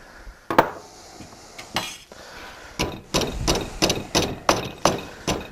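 Hammer blows dimple an aircraft sheet metal part, ringing metallic strikes close by, a few scattered hits and then a steady, evenly spaced series of sharp clanks.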